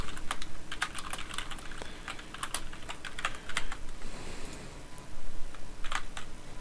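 Rapid, steady typing on a computer keyboard, with dense clusters of close, loud key clicks and a few brief pauses between bursts.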